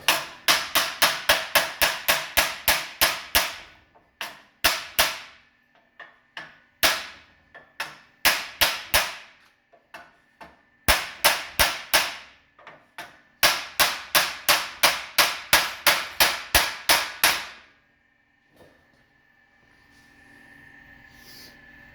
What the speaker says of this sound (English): So we're going to take this little chunk of 2x4 and a hammer.